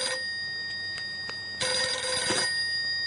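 A telephone bell rings in two bursts, the second louder and longer, close and clear with no talk over it.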